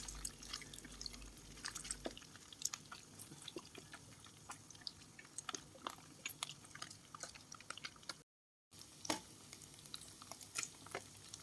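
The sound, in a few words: pork fat frying in a pan to render lard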